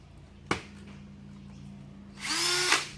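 A sharp burst, then a short high-pitched whirring rattle of an impact driver driving a screw into a stable panel for about half a second, close by.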